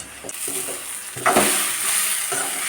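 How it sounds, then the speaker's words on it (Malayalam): Thinly sliced onions sauté in hot coconut oil for a chicken curry, a steady close sizzle broken by a few louder stirring scrapes, with no talking. "വെളിച്ചെണ്ണ ചൂടാകുമ്പോൾ കനം കുറച്ച് നീളത്തിലായിരുന്നു സവാള ചേർത്ത് കൊടുക്കാം സവാള നന്നായിട്ടൊന്ന് വഴറ്റിയെടുക്കണം"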